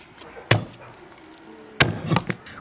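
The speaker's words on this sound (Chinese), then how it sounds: "洗净的江团剁一下" A cleaver chops through a cleaned Chinese longsnout catfish on a board, two sharp loud chops about a second apart, followed by lighter knocks, with no talking.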